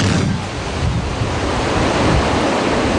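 White-water rapids of the Chico River in Kalinga, heard as a loud, steady, close rushing roar of churning water that fills the whole stretch with no voices.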